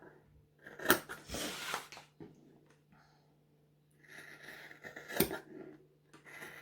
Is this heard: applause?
no